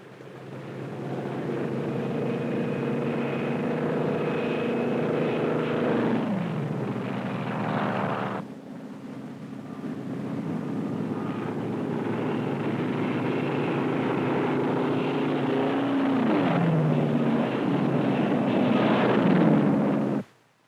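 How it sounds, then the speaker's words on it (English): Drone aircraft launched from a carrier during the 1946 Operation Crossroads atomic tests give a continuous droning engine roar, steady and fairly loud for about twenty seconds with a brief dip midway, then cutting off abruptly. "the drone aircraft are launched and temporarily guided from the carrier"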